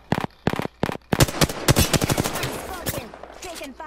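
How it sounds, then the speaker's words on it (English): Video game gunfire bursts out in rapid shots. Spaced single shots come first and turn into a dense volley, loud and close. "Taking fire."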